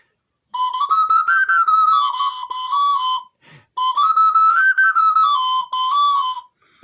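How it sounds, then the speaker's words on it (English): Small flute playing a short melody from a song, two clear, breathy, whistle-like phrases separated by a brief pause, close and fairly loud. "They love when she plays a little flute."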